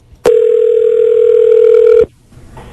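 A telephone on a prank call to a U-Haul rental place gives one long, loud, steady electronic ring or tone lasting under two seconds, then cuts off sharply into quiet.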